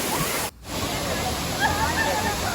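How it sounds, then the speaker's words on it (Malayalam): Thirparappu waterfall in Kanyakumari district pours with a steady, full rushing roar that drops out for a split second, with a voice faintly underneath. "ഇത് തൃപ്പരപ്പ് വാട്ടർഫാൾസ്"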